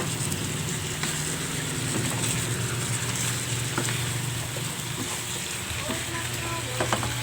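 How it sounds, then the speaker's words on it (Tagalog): Pieces of a whole chicken with lemongrass fry in a pan until brown, a steady close sizzle and crackle with occasional stirring scrapes, a voice talking over it. "gawin lang natin guys maging brown yung ating chicken"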